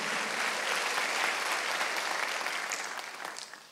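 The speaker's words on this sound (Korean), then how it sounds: "박수요." A church congregation at a Wednesday worship service claps together in sustained, fairly even applause, tapering off slightly near the end.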